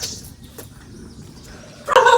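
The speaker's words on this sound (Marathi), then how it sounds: "कुत्रा भुकायला आला" A dog barks once, close and sharp, near the end after a quiet outdoor stretch during a morning motorbike outing, with faint ambient noise before it.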